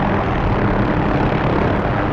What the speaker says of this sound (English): we can do a cool chopper departure off a rooftop